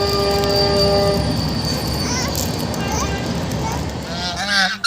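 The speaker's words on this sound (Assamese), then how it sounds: "ইফালে ট্ৰেইন যাই আছে" A train passes near a lakeside wetland, a loud sustained rumble of wheels with long steady horn tones and squealing wheel sounds, fairly close, with faint voices in the background.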